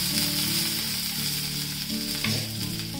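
Curry leaves sizzle and fry in hot oil with cumin and mustard seeds for a South Indian breakfast dish, a steady dense crackle that holds close and loud throughout with a brief stir partway.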